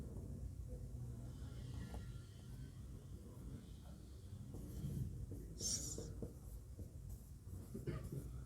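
Chalk or marker scratching across a classroom board during a lesson, a faint continuous rubbing texture with a brief brighter squeak partway through, no talking.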